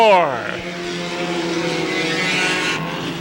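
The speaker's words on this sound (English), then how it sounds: "Car got a little sideways as she was coming off turn 4." A race car engine roars loudly at a racetrack as the car slides sideways coming off turn four, with the engine pitch swooping down at first and then holding steady under a commentator's voice.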